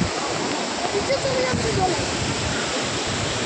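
Jung waterfall flowing, a steady broad rush of falling water heard from a distance, with a person speaking briefly over it.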